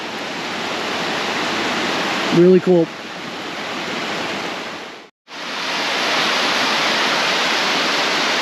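Lower Bertha Falls in Waterton Lakes Park, Canada, heavily flowing on a cloudy, misty day, gives a loud, constant roar of falling water; a short spoken remark and a brief dip in the sound interrupt it.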